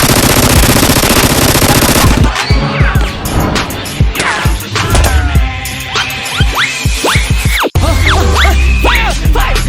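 Toy Nerf blasters firing in a live-action gun fight game, a rapid burst of loud clicking shots followed by scattered snaps and thwacks, close and energetic with no talking over it.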